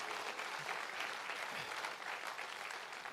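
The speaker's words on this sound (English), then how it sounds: "Come on, I want you to clap one more time." A church congregation claps steadily during worship, a dense and continuous wash of applause that holds level throughout with no voices over it.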